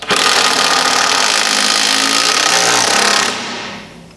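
A power tool drives screws into the struts of a heavy-duty wooden beehive stand, a loud continuous hammering whir lasting about three seconds, then winding down and stopping.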